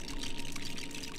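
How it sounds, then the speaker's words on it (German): Water being built in the video game LEGO The Hobbit sounds like a steady pouring, gushing rush, continuous and fairly loud for about a second with no voices. "Und jetzt bauen wir Wasser"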